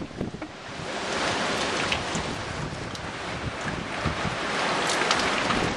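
Strong wind during Hurricane Ike roars as a steady, broad rush with gusty swells and buffeting against the microphone, loud and continuous with no voices.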